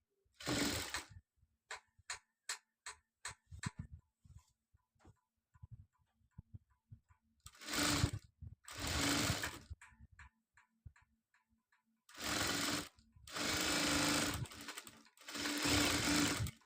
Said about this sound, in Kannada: ಕಡೆ ಅರ್ಧ ಸ್ಟಿಚ್ ಆದಮೇಲೆ ಈ ಕಡೆಯೂ ಕೂಡ ಅರ್ಧ ಸ್ಟಿಚ್ ಮಾಡ್ಕೊತೀನಿ